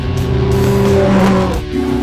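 A Ferrari F430 V8 races past at high revs, a loud screaming howl with tire squeal, close and continuous for two seconds with no speech.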